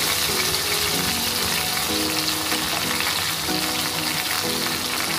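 A spice paste of turmeric, salt and a pinch of sugar fries and gets stirred in a pan for bhetki fish curry. A dense, steady sizzle fills the whole clip, close and loud, with faint tonal ringing underneath.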